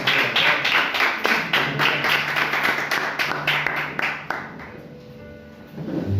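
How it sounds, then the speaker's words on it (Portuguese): A church congregation applauds during a Pentecostal worship service, dense clapping that thins and fades toward the end, with a voice faintly present underneath. "aplauda o Senhor, que é merecedor de toda a honra"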